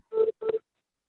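Two short electronic telephone keypad beeps, faint and crisp, sounding in the background of an online city council meeting.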